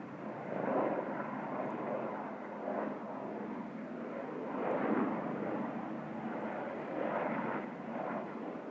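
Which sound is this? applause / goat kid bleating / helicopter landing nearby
helicopter landing nearby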